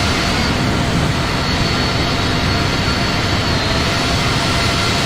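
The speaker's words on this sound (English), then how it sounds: "Big massive engines." Massive jet engines of a Boeing 777-200LR in Flight Simulator X roar loudly and steadily, a dense broadband rush with a faint high whine on top.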